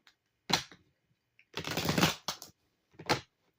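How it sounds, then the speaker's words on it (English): A deck of tarot cards being shuffled by hand during a reading, heard as three separate bursts of crisp riffling and flapping, each lasting under a second, close and fairly quiet with silence in between. "One more shuffle."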